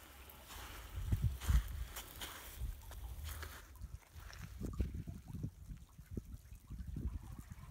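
Icicles drip into seawater as small waves wash in, a faint, quiet scene of scattered soft drips and trickles over a low, gentle swash.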